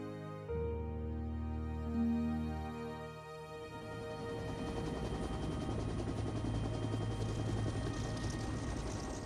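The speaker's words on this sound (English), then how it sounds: "During Korea, a new aircraft was flying off carriers, the helicopter, ideal for rescue missions." A Korean War–era helicopter flies near a carrier deck, a steady loud rotor and engine drone building after an opening thump and holding on without a break.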